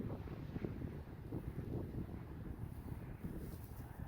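Wind gusts across an open disc golf course, a low rumbling buffet against the microphone that stays steady and fairly close with no voices.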